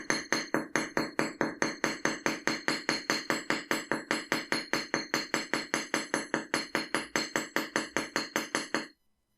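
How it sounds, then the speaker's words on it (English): A metal hammer taps the top of a twisted metal pendant in a rapid, steady run of about forty sharp, close strikes, each ringing briefly before the next, then stops. "Then we can turn the piece to hammer the top of that twist."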